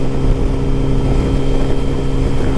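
A Yamaha FJR1300 motorcycle cruising on a highway gives a steady, smooth, loud engine drone mixed with wind rush. The level stays constant, with no voices.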